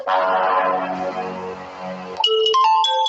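A phone ringtone plays loudly and close, a melodic tune that gives way to bright, repeating electronic tones.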